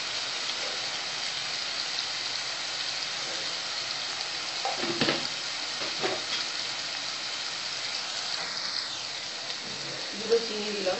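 A spice masala for a raw banana kofta curry sizzles steadily in a hot pan, with a few soft scraping stirs breaking through the constant frying hiss.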